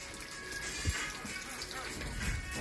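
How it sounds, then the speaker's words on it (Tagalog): Tap water running steadily into a container, a continuous broad splashing wash with a few low thumps, heard close with no talk over it. "Kaya tayo ay magpapuno muna ng tubig."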